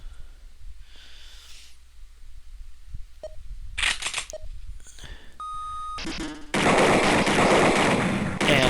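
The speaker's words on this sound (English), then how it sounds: "you can do the shooting range for practice" Shooting range practice in the Sega CD game Snatcher: electronic beeps and clicks, then loud bursts of synthesized gunfire ending in a sustained rapid volley.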